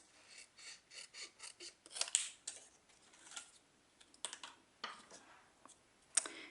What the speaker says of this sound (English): I'm going to use my snips.